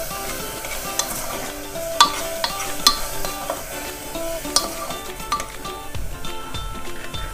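Steady sizzling of grated carrot frying on low heat in a pan, with scattered clinks and scraping of a utensil stirring throughout; no voices.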